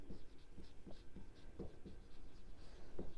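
Chalk or marker strokes on a board during a 9th-class maths lesson: quick, rhythmic scratching taps, close and fairly faint, with no talk.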